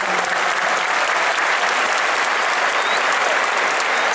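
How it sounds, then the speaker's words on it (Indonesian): Loud, dense applause from a stadium crowd at Gelora Bung Tomo in Surabaya, the first match with spectators after the pandemic, as a continuous roar of clapping filling the space. "Tepuk tangan semuanya"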